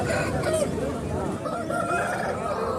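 Native country roosters and hens at a village chicken market in Anantapur cluck and call among a busy crowd, with people talking over the birds throughout.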